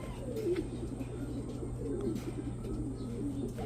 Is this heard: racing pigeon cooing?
yes